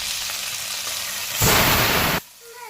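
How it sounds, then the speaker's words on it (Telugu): Soaked toor dal and sago hit hot oil in a pan, giving a loud broadband sizzle that swells abruptly for under a second, then drops back to a softer frying hiss. "ఈ నానబెట్టినాయి కదా, కొంచెం నూనెలో ఫ్రై చేస్తే టేస్ట్ బాగుంటుంది."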